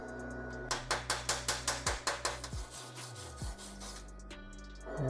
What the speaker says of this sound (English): then we'll clean that flux right off of there